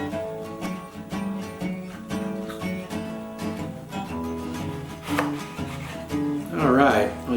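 A knife cuts a couple of thick slices from an heirloom tomato, giving a few soft cutting strokes half-buried under steady background music.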